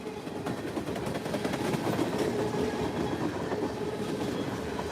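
A freight train with Great Northern boxcars rolls past close by, a loud continuous rumble with rhythmic clickety-clack of wheels over rail joints, steady throughout.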